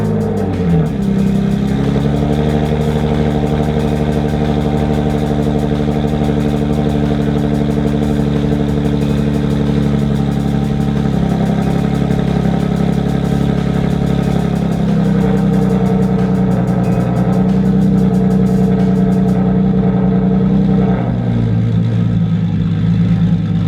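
A turbocharged Nissan 370Z running on E85 fuel idles close by, a loud, steady engine drone with slight rises in revs, continuous with no talking.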